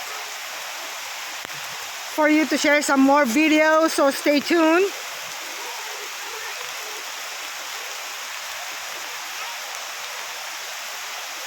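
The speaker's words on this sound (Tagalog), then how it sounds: "Ang lakas ng ulan." Heavy rain falls at a heritage temple in Bali, Indonesia, a steady, even hiss throughout, while someone speaks briefly near the start.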